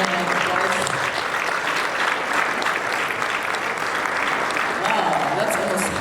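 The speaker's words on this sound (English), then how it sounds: "let's give them a warm round of applause" Sustained applause from a large conference audience at a forum in Kigali, dense steady clapping filling the room throughout, loud and continuous.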